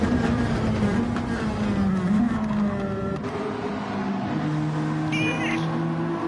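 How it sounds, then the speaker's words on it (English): A house cat meows and yowls near the microphone in long, drawn-out, wavering cries that run almost without a break, with a short beep near the end. "Oh, get out of here, kitty meow."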